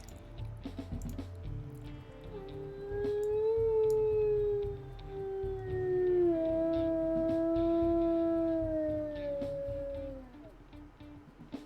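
A wolf in the WolfQuest video game lets out a long, low, haunting howl whose pitch glides slowly downward and then rises, sustained for several seconds over a faint ambient game background.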